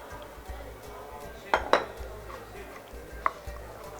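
Utensils clink against a bowl as sour cream is added for a banana cream cake: a few sharp metallic clinks close together, then one more after a pause, over quiet kitchen background.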